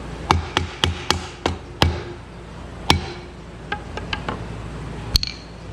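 Motorcycle crankcase halves, from a Hodaka engine's crank and transmission, tapped together with a hammer or mallet on a workbench: a quick run of six sharp knocks, then a few lighter taps and one last firm hit, close and clear.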